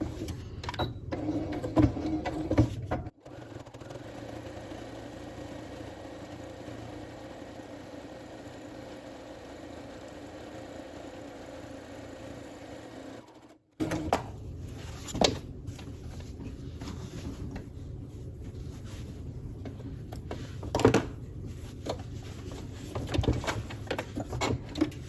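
Sewing machine stitching a potholder, a steady whirring hum that stops and restarts, with faint clicks and handling knocks nearby.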